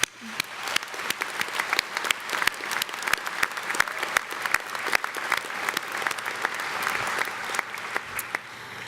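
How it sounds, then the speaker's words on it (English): Graduates at the Penn College commencement in May 2018 receive sustained applause from a large crowd, dense clapping holding steady for about nine seconds with no voices over it. "let's all now give a round of applause to those graduates"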